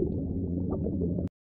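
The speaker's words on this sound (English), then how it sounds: "a video of some whales underwater with some bubbly water sounds underneath" AI-generated underwater sound effect with whales, a dense, steady bubbling and gurgling churn with low murmuring tones that cuts off abruptly.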